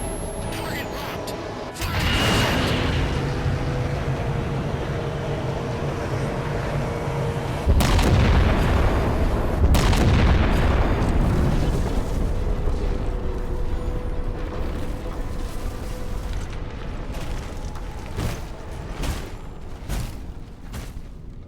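Weapon fire and explosions in Halo 4, loud booming blasts that erupt and roll on with dense rumbling bursts, then fade into scattered distant impacts.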